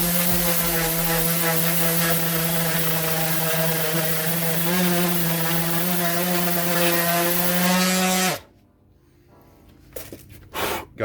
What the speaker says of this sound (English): One of the things I like to do though to make this completely smooth is get one of these disc sanders.